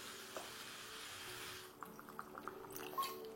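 Water pours into a soybean curry simmering in a pan, with soft sizzling and bubbling, then brief splashy pouring and light stirring clinks close by.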